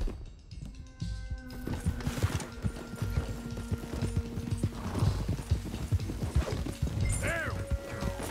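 Rapid clip-clop of horse hooves over a steady hum in the video game Red Dead Redemption 2, with a horse whinnying near the end and a faint voice underneath.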